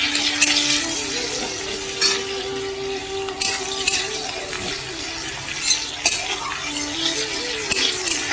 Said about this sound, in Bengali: এই যে এইখানে মশলাটা কষাচ্ছি এখন